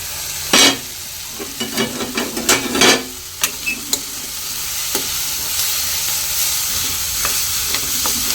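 Small bitter gourds fry with salt in a pan, a steady close sizzle punctuated by several sharp spoon knocks and stirring scrapes early on, then settling into an even hiss without talking.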